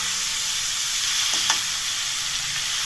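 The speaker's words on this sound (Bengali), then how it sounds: "ঢাকা দিয়ে পেঁয়াজটাকে সুন্দর করে ভেজে নেব।" Sliced onions with a little salt frying in oil under a lid, giving a steady, soft hiss throughout with a brief louder sputter in the middle and no talking.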